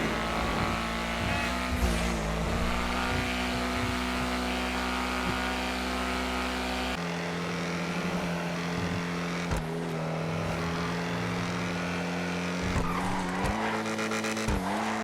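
A sports car engine roars and revs continuously in the video game GTA Online, shifting pitch through gear changes, with tires squealing during hard cornering.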